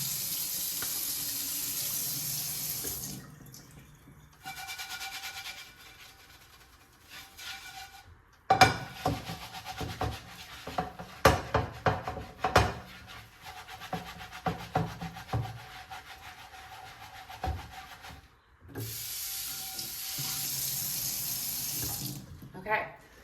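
Tap water runs into a sink while a luffa sponge scrubs a pan with cooked-on scrambled egg: steady gushing streams at the start and end, with a rough, irregular scraping and rubbing section between.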